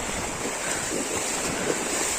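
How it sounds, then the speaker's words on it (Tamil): Fast-flowing flood water rushes through a town street during heavy rain in Tirunelveli, a steady broadband roar with wind buffeting the microphone and no talk. "தண்ணி வேற வேகமா இழுக்குது."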